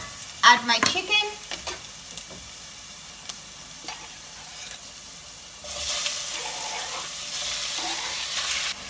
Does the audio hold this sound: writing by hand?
no